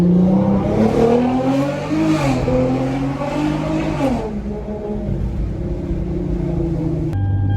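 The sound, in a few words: car accelerating hard on street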